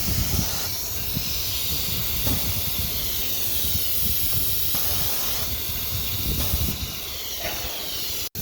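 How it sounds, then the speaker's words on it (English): An oscillating knife cutting machine with a CCD camera releases a loud, continuous pneumatic hiss from its spindle cylinder lifting, holding steady for several seconds before cutting off abruptly. "The spindle lift. It means the spindle cylinder, it will be down or up."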